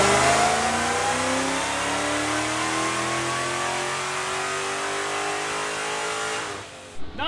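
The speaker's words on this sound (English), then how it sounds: "we have to put the old filter back in and do a 5th gear pull now" A car held in fifth gear on a dyno roars loud and close, its engine pitch climbing steadily through a long pull before cutting off at the end, alone with no voices.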